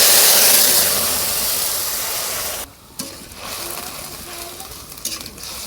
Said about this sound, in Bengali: তেল গরম হয়েছে, দিব গোটা জিরা, ইটা মাছের শুটকি, পেঁয়াজ রসুন আর কাঁচা লঙ্কা একসাথে বাটা আর মশলার ঝোল দিয়ে দিলাম।